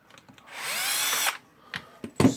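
A power drill whirs steadily for most of a second while backing screws out of a Bosch GBH 4 DFE rotary hammer. Sharp clicks and clunks of handling follow nearby, and no one speaks.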